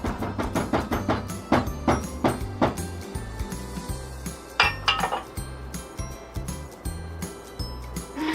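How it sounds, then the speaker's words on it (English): A utensil clinks and scrapes repeatedly against a bowl while keto chocolate cake batter is mixed with heavy cream, steady close rhythmic knocks with a few louder hits, no talking. "Just mix and mix and mix"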